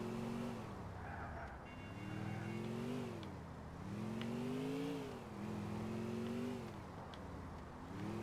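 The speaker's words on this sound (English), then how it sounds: "We've got a car that can drive." Car in Grand Theft Auto IV driving and revving, a steady close engine drone whose pitch rises and falls in repeated surges over several seconds, with no talk.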